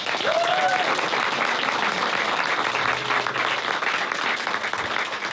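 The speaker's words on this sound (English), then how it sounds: "you give a big round of applause, Stephen Wiltshire" A crowd welcomes the artist Stephen Wiltshire with sustained, even applause from a large audience, continuous clapping filling the room for the whole span without a break.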